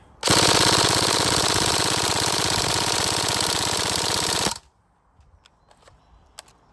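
A Tokyo Marui SCAR-L NGRS airsoft gun fires one loud, fast full-auto burst of about four seconds close by, then stops, followed by faint clicks and handling noise.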